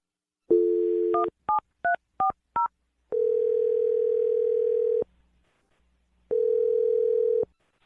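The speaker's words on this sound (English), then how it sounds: "I'm going to dial his phone number now" Telephone DTMF tones: a short tone, then four quick beeps of a number being keyed, followed by two long steady tones separated by a pause, clean and close with no talking.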